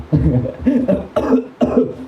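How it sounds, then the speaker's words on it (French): A person coughs several times in quick succession, close and fairly loud, each cough short and raspy. "Ça m'a gratouillé la gorge et commencé à tousser."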